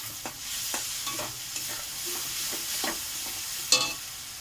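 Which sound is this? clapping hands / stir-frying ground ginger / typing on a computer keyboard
stir-frying ground ginger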